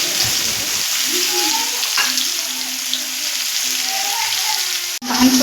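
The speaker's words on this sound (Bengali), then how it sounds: "দেখুন কড়াইতে তেল দিয়ে দিয়েছি, তেলের মধ্যে দিয়ে দিলাম পেঁয়াজ কুচি।" Chopped onion frying in hot oil in a wok, a steady close sizzle with a faint tonal hum underneath and a brief clatter near the end.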